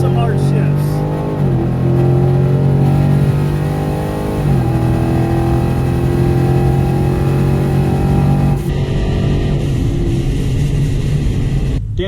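At a drag strip during Lone Star Mopar Fest, a Dodge Challenger R/T Scat Pack accelerates hard, its loud engine tone climbing and then dropping sharply at three distinct gear shifts over about twelve seconds.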